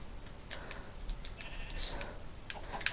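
A video game sheep bleats faintly amid light clicking and tapping, with a quiet voice briefly audible underneath.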